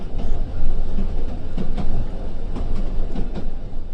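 A heritage train on the West Somerset Railway at Minehead rumbles loudly and steadily as it pulls away, with faint rhythmic clicks of wheels over rail joints.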